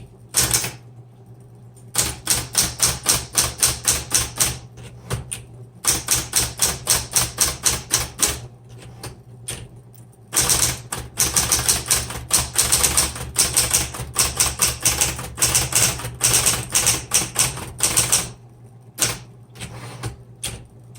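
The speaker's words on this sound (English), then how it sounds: "It's nice, and it's an easy typewriter to use." Capital letters typed on a 1970s Smith Corona Electra 120 electric typewriter: steady bursts of sharp, close key strikes with brief pauses between runs, loud and clear with no talking.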